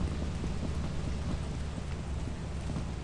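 Heavy rain and rolling thunder from a storm in the video game Lethal Company form a dense, steady, loud roar with no clear breaks and no talking.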